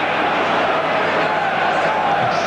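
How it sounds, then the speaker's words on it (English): Home crowd at a Strasbourg v Liverpool UEFA Cup football match roars continuously, a dense, steady wash of cheering and shouting across a large stadium with no pauses. "Crowd here, home crowd, very enthusiastic about the score at the moment"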